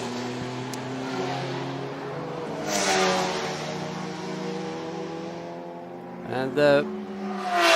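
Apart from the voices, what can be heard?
race cars, Porsche Caymans, on track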